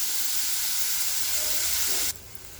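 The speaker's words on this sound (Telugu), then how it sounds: "ఇందులోనే టమాటాలు వేసుకొని ఫ్రై చేసుకుందాం" Tomatoes fry with ridge gourd in a pan, giving off a loud, steady sizzling hiss up close that abruptly drops to a much quieter level near the end.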